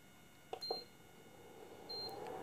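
An induction cooktop with a twin-IC LM339 and microcontroller board, under repair with metal placed on it, gives two short, sharp electronic beeps about a second and a half apart as it shows an error code, alone in a quiet room.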